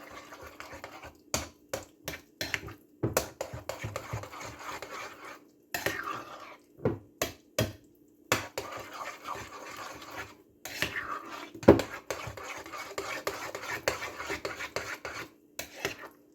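A spoon scraping and stirring eggs into a lasagna filling with parsley in a bowl, rhythmic rasping strokes close up with short pauses between them.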